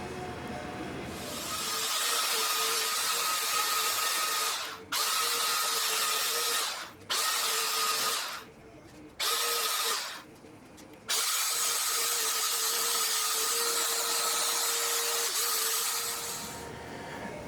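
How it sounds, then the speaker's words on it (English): A belt sander grinds along a windshield edge, guided by an aluminum angle straight edge, in a loud continuous whine that cuts out briefly a few times before running on steadily. "we're going to take a belt sander with a straight edge on there"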